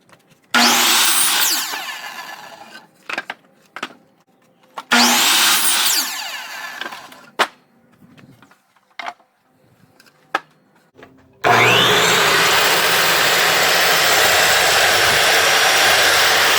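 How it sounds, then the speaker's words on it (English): A power saw cuts wooden boards to length for a planter box: two loud whining cuts separated by clatter of handling boards, then a third sustained saw run at the end. "I've cut all the boards except the trim pieces to length now."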